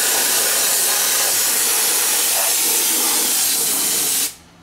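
Bar and chain oil is sprayed as undercoating from a pressurized sprayer, giving a loud, steady, broadband hiss for about four seconds that cuts off abruptly.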